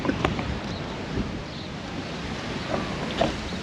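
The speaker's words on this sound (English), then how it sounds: "It is crazy windy out here." Strong wind blowing outdoors at a car lot, a steady loud roaring rush with buffeting against the microphone and a few faint knocks.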